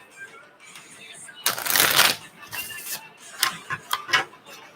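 Tarot cards are shuffled by hand during a live reading: a loud riffling burst, then a quieter pause and several short, sharp snaps and flicks of the deck.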